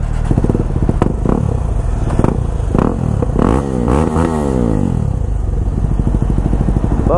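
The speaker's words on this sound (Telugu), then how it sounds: "Let's listen to our bike." Motorcycle fitted with a modified aftermarket exhaust, revved repeatedly in close range, with sharp rising and falling throttle blips and a loud, steady rumbling idle between them.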